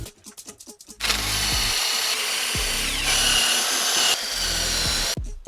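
A wire wheel spun by a drill scrubs heavy road rust off a brake caliper bracket from a 2015–2020 Ford F-150, a loud steady grinding whir running about four seconds after a few short taps, then stopping.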